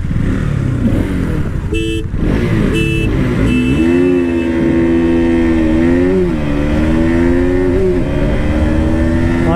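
KTM RS 200 and KTM RC 200 motorcycles launch in a 2021 drag race, loud engines revving and climbing through gears with rising and falling pitch, close and continuous.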